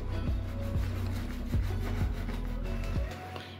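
Hair is scrubbed and rubbed during washing, a steady close rhythmic rubbing with repeated strokes over a low background hum, then a brief fade at the end, with no speech.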